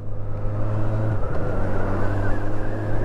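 Honda CB1000R Black Edition motorcycle engine pulling steadily in fourth gear while riding, a loud, close, continuous droning growl with a brief pitch dip mid-way, wind noise over it, no voices.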